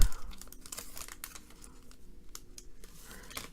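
A foil trading card pack wrapper for 2017 Elite Extra Edition baseball is carefully torn and crinkled open close up, with dense irregular crackling and tearing bursts over about three and a half seconds and no talking.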